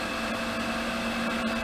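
A Startrite H325 mitering band saw with an inch-and-a-quarter blade and carbide guides hums steadily at close range, a constant machine drone with no break.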